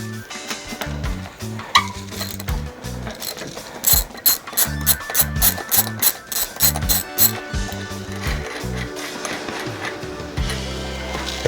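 Ratchet with a 15mm socket and extension loosening the axle nuts on an S.E. Bikes So Cal Flyer 24-inch BMX bike, producing loud, close bursts of rapid clicking that start and stop repeatedly, with no talking.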